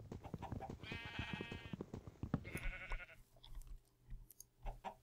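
Sheep bleating in the Minecraft video game, several short nasal bleats overlapping with clicking and chewing-like game sounds, fairly close and busy.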